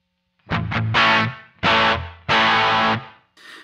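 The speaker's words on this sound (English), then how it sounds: "we've got a built-in reverb, which you can just hear a little bit" An electric guitar plays through a MayFly Audio Sunrise amp simulator with built-in reverb, giving loud, distorted chords in three or four bursts with short gaps, and a faint reverb tail hanging after each.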